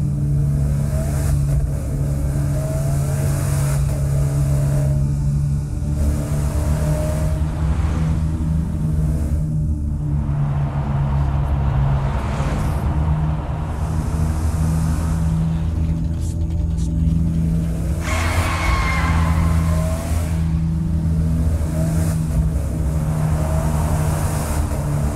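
Car engine droning and revving steadily throughout a Saints Row IV driving sequence, with loud continuous motor rumble, shifting pitch as the vehicle accelerates, and a few brief tire-skid squeals, with faint game voices underneath.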